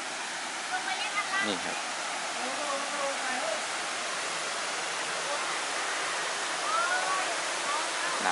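A waterfall in Ubon Ratchathani, Thailand, where water pours into a hole in the rock, roaring as a constant broad wash of rushing water while someone speaks briefly over it.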